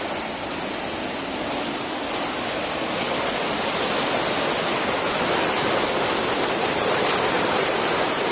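Strong rushing water pours steadily at a cold spot beside Zac hot spring, where brown coffee-colored water churns loudly; the roar is continuous, dense and close, with no voices over it.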